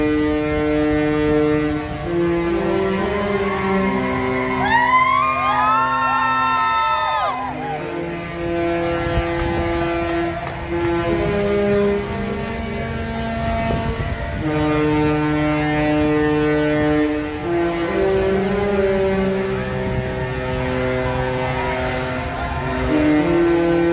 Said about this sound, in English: Also, we got to hear the Princess Sail Away horn,